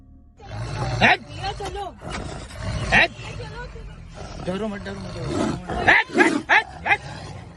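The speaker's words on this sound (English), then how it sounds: "A tiger emerges from the foliage, charging toward a tourist vehicle." Tiger roaring as it charges toward a tourist vehicle; loud, repeated roars and snarls rise and fall in bursts, mixed with agitated human voices nearby.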